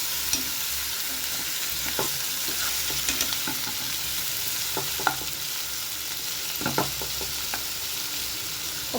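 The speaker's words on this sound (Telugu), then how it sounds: "వేసేసి ఇవన్నీ చక్కగా కలుపుకోవాలి." Mixed vegetables being stirred in a hot pan for a curry, with repeated utensil scrapes and clinks over a steady sizzle, close and fairly quiet throughout.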